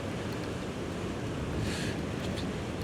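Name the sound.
wind blowing on the microphone while fishing at sea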